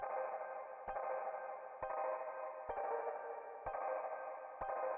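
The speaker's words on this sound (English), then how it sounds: "Which is just the percussion part of the organ. Short decay." Percussion voice of a WERSI Stage Performer MK1 organ on drawbars with short decay: a sustained mid-range organ tone with five sharp, evenly spaced clicky percussive attacks roughly one second apart, clear and unaccompanied by speech.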